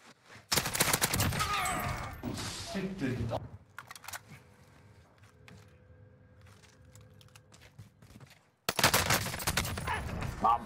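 Bursts of H4 Blixen SMG gunfire in a Warzone match, loud rapid volleys opening the stretch and returning near the end, with quieter game ambience between and voices talking over the shooting.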